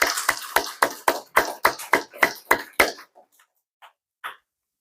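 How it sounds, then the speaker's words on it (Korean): A church congregation applauds during a Sunday worship service, a steady run of about a dozen close, even claps that stops abruptly, followed by a few faint scattered sounds. "우리 하나님께 영광의 박수 올려드리겠습니다."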